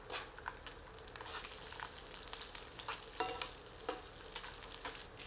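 Garlic frying in a pan with spices and sesame for a Malvani crab curry, a soft, steady sizzle with light stirring scrapes, faint and close with no talking.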